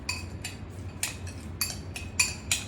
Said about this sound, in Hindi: सबको मिक्स करेंगे हम अच्छे से